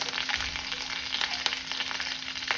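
Curry leaves and green chillies fry in hot oil in a pan, making a continuous close sizzle with scattered small crackles and pops.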